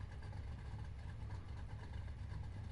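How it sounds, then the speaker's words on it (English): A muscle car engine idling in the racing game Need for Speed Heat, a low, steady rumble held evenly and fairly faint, with no talk over it. "Wow, listen to that car though."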